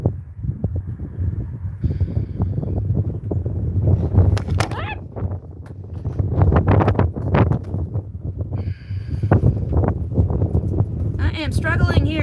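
Gusty wind buffets outdoors, a continuous low rumble with rising and falling gusts, mixed with clattering knocks and a voice.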